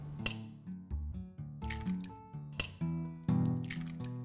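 Eggs for a tart filling drop into a mixing bowl in a quick series of wet plops, squishes and a sharp crack, close and fairly quiet with nobody speaking.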